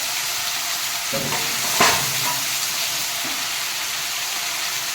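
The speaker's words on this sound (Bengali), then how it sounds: "এই পেঁয়াজ বাটাটা আমি দিয়ে দেব এই টমেটো পেস্টটা দিয়ে দেবো" Onion paste and tomato paste fry in hot oil for a bachi fish curry, making a loud, continuous sizzle with one brief scraping stir partway through and no voices.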